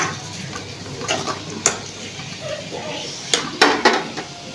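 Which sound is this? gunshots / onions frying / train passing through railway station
onions frying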